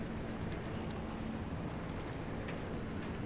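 Steady, dense rain falls in the video game Pacific Drive as an even wash of noise with no breaks.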